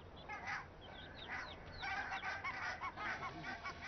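Newly hatched goslings and adult geese call in the Nordic wild, a scatter of faint, thin peeps and honking notes over soft background noise, several calls overlapping.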